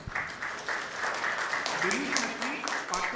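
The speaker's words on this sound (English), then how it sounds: "Please welcome him with a big round of applause." Audience applause welcoming a panelist at a procurement conference panel discussion, an even wash of clapping running throughout at moderate level, with a faint tone or voice-like sound briefly underneath.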